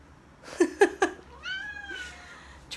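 A house cat meows up close, making a few short chirpy calls and then a longer drawn-out meow, with a final brief cry at the end.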